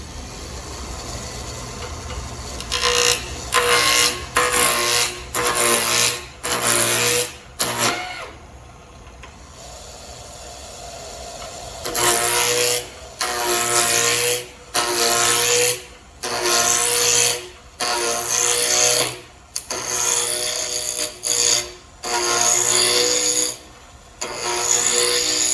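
Wood lathe turning flat lumber, 3/4 inch thick and 14 inches long, into a wooden roux spatula, with repeated rough scraping bursts of the cutting tool separated by short pauses, loud and close.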